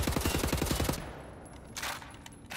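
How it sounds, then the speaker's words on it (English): Rapid automatic gunfire in the video game Wolfenstein The New Order, a fast burst of about ten evenly spaced shots lasting one second, then quieter game ambience with a few softer impacts. "Can I not just shoot this fucking thing?"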